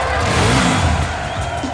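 A Hero Hunter 100cc motorcycle engine revs loudly and continuously for under two seconds in an advert, with a throaty rising-and-falling drone up close and no one speaking.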